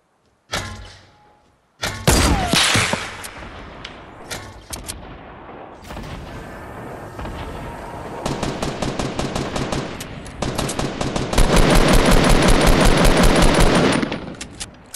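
Fortnite gunfire in a duo match: rapid automatic bursts and single loud shots, building into a dense, sustained volley of cracks toward the end, close and loud with no talking.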